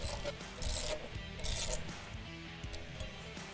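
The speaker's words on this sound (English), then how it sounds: "Install the fenders using the M8 by 20mm flange bolts and the nylock nuts." Wrenches clatter and ratchet on M8 flange bolts and nylock nuts while fenders are fitted to a RuggedSplit 500-Series log splitter; two brief bright metallic ratcheting bursts over a low steady background hum.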